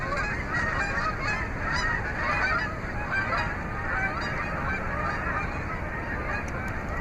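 A goose honks repeatedly at a distance over steady background noise, its calls coming in short irregular bursts.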